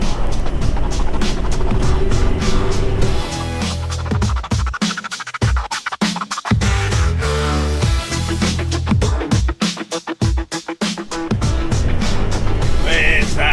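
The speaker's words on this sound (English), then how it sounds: "So here comes a big road train." A big road train truck hauling five trailers rolls past on an outback road, a loud, sustained engine and tyre roar that swells and churns for several seconds with brief dips as the trailers pass.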